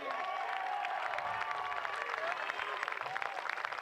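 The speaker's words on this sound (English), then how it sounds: "you hear the cheers from the crowd" A crowd cheers and applauds steadily at the 2023 Summit League Outdoor Track and Field Championships. The roar is dense and sustained, close and fairly loud, with no clear break.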